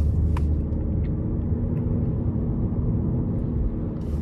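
A 2023 Toyota Crown XLE AWD with a 2.5-litre four-cylinder hybrid drives around town, heard as a steady low cabin rumble of engine and road noise, with no talking.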